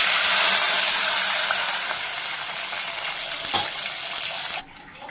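A glass of water poured into a hot pan of oil and tempered seeds while making upma, giving a loud steady hissing sizzle that fades gradually and then cuts off near the end.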